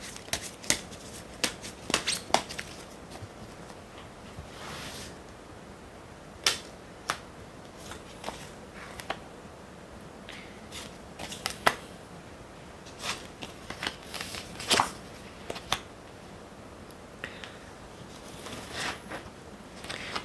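Tarot cards handled and shuffled before a draw, a scattered series of sharp, crisp clicks and flicks of card stock, close and fairly quiet, with no voices.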